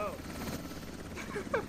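A helicopter in the video game Squad gives off a steady, droning rotor whir at moderate distance, with faint voice sounds over it.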